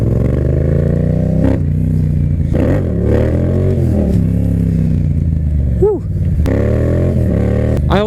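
A Yamaha FZ-07 motorcycle engine runs loud and close after a jumpstart, a steady idle with a brief rev near the end.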